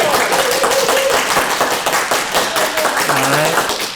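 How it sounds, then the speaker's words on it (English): Crowd applause and cheering at a Comic-Con panel, dense clapping with whoops rising over it, continuous and loud throughout. "Applause for Chrono Trigger as the best SNES game."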